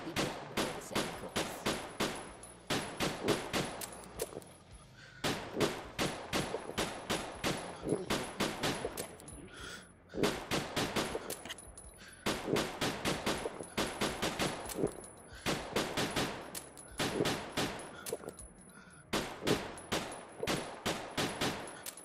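Repeated volleys of rapid gunshots in the Drunk Or Dead 2 VR shooting game, fired in sharp bursts of several seconds separated by brief pauses for reloading.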